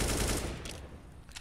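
An AK rifle sprays a burst of rapid gunfire in Counter-Strike during a PGL Major Krakow 2017 esports match, loud and dense at the start, then thinning with a few scattered shots near the end.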